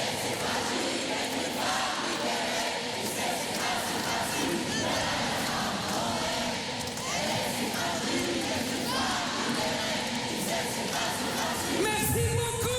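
A huge concert crowd at Paris Bercy during an RFM Party 80 show sings along loudly in unison, a dense, continuous roar of voices with no break.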